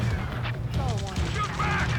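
Gunfire in the video game Ace Combat 7, a steady rattle of shots sitting under tense shouted dialogue and radio chatter throughout.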